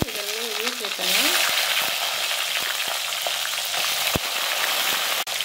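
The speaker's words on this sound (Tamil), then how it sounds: "இப்போ அடுப்பில் வானல் வச்சுட்டு அதில் கொஞ்சம் எண்ணெய் சேர்த்துட்டேன். இப்போ நம்ம வச்சுருக்க இந்த ஸ்பைசஸ்லாம் இதில் சேர்க்குறேன்." Spices and onions frying in hot oil in a pan for Chettinad fish curry, a dense close sizzle that swells after a brief opening and continues steadily, with a few sharp clicks and taps of a utensil.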